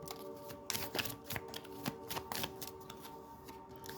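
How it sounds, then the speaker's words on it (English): Tarot cards shuffled by hand, a series of soft riffling bursts and light taps, close and quiet against a faint steady hum. "So I'm going to pull some cards on Chyna's energy"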